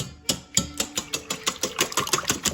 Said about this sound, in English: We have our 12 eggs in the bowl. All right, now we're gonna whisk it up.